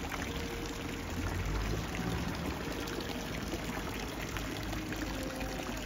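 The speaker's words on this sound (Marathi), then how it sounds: "हे यांच्या तोंडातून पाणी पडत आहे." Water pours steadily from the mouth of a fountain statue, a continuous, even splashing wash that holds at a constant level without pause.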